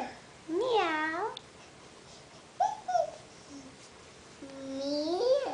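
A small child imitates a cat with drawn-out, rising and falling meows, three separate calls with pauses between, an adult's voice talking faintly in the gaps.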